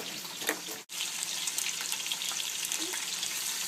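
Food fries in a pan as it browns for Cuban-style black beans, a steady close sizzling hiss broken by one brief silent cut, then continuing evenly.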